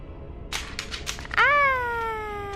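A cat in Dragon Age: Origins gives a single clear, drawn-out meow that slides slowly downward, after a few soft clicking taps, up close and with no voices.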